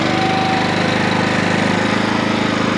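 A Stinger Gateway applicator spreader runs during a test, with a loud, steady, rapidly pulsing engine drone and no talk.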